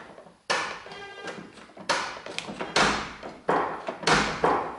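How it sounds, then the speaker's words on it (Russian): Mazda car door bouncing while being adjusted in a workshop: five heavy, close metallic thuds spaced irregularly, each dying away quickly, with no talk over them. "Ну да, дверька подпрыгивает."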